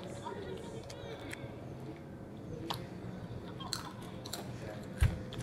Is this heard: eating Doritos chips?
yes